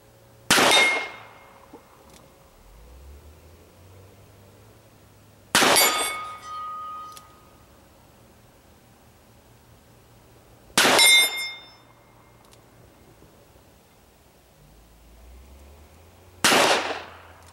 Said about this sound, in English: we're going to shoot them single action and see what kind of these plates we could take out